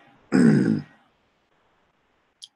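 One short, rough throat clearing sounds close by, followed by silence and a faint tiny click.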